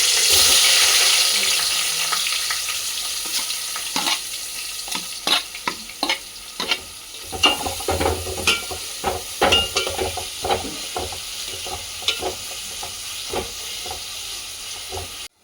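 Onions hitting hot oil in a pot for one-pot tomato rice, first a loud burst of sizzling that settles to a steady fry, then repeated close stirring scrapes and taps.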